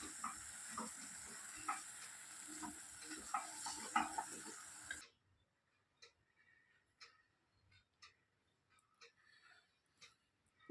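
Mirchi gongura curry with turmeric is stirred in a hot pan, giving a few seconds of loud hissing sizzle with scraping clicks. It then cuts abruptly to near silence with only faint, sparse ticks.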